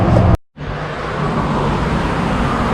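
A car passing by on the road, starting right after a brief cut to silence and then growing into a steady rising rush of tyre and engine noise that continues to the end, with no talking.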